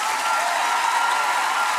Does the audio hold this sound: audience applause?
yes